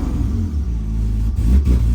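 A car engine rumbles low and close, struggling and bogging down as it is revved after idling, with a brief dip and uneven surge near the end.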